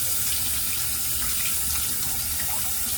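Water runs steadily from a tap for rinsing, a close continuous hissing splash with small gurgles throughout, with no one speaking.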